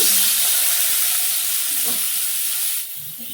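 Mango pieces dropped into hot oil tempered with chili and mustard seeds give a steady, bright sizzle that carries on loudly, then eases a little toward the end.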